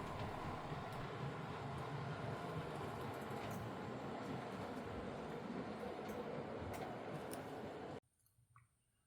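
A Scale Trains Rio Grande SD40T-2 Tunnel Motor model locomotive runs in reverse with a steady mechanical whir and light track clicks, close and continuous until it cuts off near the end.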